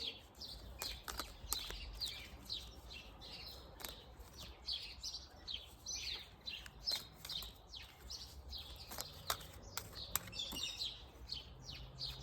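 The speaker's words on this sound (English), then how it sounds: "Ooh, spring birds." Spring birds chirp and tweet in quick, repeated bursts, with several calls overlapping at a faint to moderate level over a quiet outdoor background.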